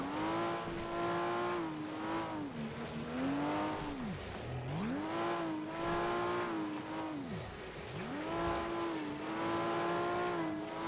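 A race car in the FlatOut racing game skids on ice, its loud engine revving up and down in long swooping waves while the tyres hiss steadily underneath. The sound is close, continuous and heard with no voice.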